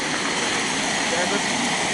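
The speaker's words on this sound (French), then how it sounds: "Là, je fais des cascades pour vous montrer notre douche." A multijet shower runs hard, giving a dense, continuous hiss of spraying water that stays steady and close throughout, with no pauses.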